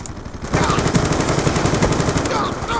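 Rapid automatic gunfire rattles loud and close in a Black Ops 2 multiplayer match on the Grind map, a dense burst of shots after a short lull.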